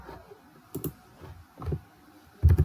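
Clicks on a computer keyboard as an IP address is typed into PuTTY to reach a Raspberry Pi, a few sparse, close keystrokes with the loudest cluster at the end, no talking.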